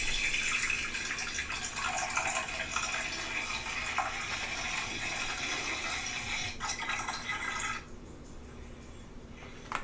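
Water running steadily from a tap for several seconds, a loud continuous splashing stream that suddenly quiets near the end as the flow is shut off, with no voices over it.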